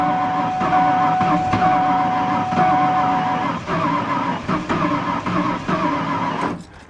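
A Ford F150 trying to cold start after a fuel line freeze-up, the starter cranking in a steady rhythmic churn for several seconds without catching, then cutting off.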